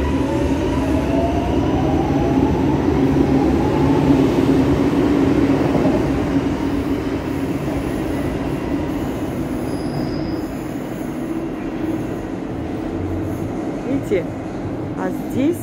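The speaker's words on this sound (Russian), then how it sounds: "Смотрите, как сейчас поезд куда пойдет." Metro train rolling along a station platform on seamless, weld-free rails, with a steady loud rumble, wheel squeal and faint clatter lasting throughout, while people talk over it.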